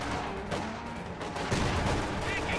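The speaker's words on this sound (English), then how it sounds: "this MG34 is actually firing on the rifles in the building" MG34 machine gun fire in the strategy game Company of Heroes, with bursts of rapid gunfire mixed with other battle shots and explosions, fairly loud and continuous, the firing growing heavier toward the end.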